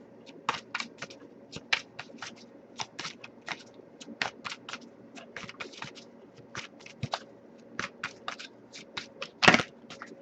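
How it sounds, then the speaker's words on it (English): Tarot cards being shuffled by hand, a string of soft, quick riffling snaps and flicks in irregular bursts, close and fairly quiet, with one louder slap near the end. "I'll give it a few more shuffles"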